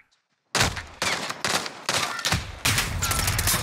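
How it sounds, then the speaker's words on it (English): Rapid bursts of automatic gunfire from Call of Duty Warzone, loud and close, firing in five or six quick volleys after a moment of silence with no talking. "He's sitting there shooting at me"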